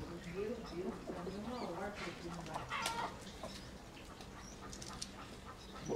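Farmyard chickens cluck and squawk in scattered bursts around a hen and rooster, with a pig feeding alongside, voices talking faintly in the background.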